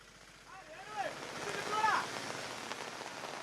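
Heavy monsoon rain falls across Kottayam district in Kerala during river flooding, a moderate, steady hiss with gusty wind buffeting the microphone, while faint voices are heard in the background.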